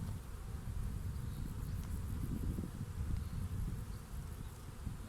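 Honey bees buzz at an opened hive in a dense, continuous, close hum that holds steady throughout with no voices.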